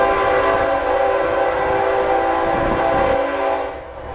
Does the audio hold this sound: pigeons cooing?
no